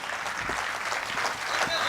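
An audience at an All India Mushaira poetry gathering in Ahmednagar claps to welcome the organizing committee, a steady dense patter of applause filling the short stretch at moderate distance.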